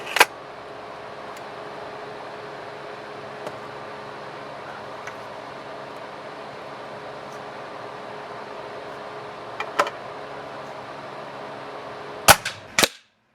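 A Ruger .22 Max Elite air rifle fires a Hornet pellet. A sharp, brief crack sounds near the end, with a second snap just after, over a steady hiss of background noise.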